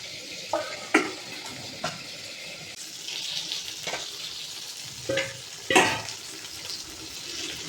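A boal fish head sizzles in hot oil in a pan while being stirred, a steady frying hiss broken by several sharp scrapes and clinks of the utensil against the pan, close and alone.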